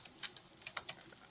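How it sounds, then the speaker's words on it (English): Rapid, uneven clicks of loud typing on a computer keyboard rattle along, close but quiet, with no voices over the keystrokes. "I muted Diego temporarily there because he was typing loud"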